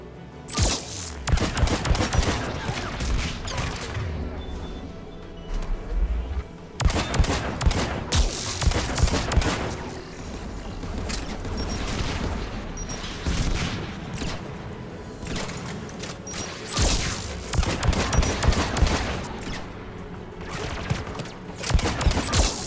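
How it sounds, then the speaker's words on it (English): Anti-aircraft guns firing in Mass Effect 3, a continuous barrage of heavy gunfire and booms with bursts that swell and ease across the whole stretch, loud and sustained with no pauses. "AA guns ahead of us."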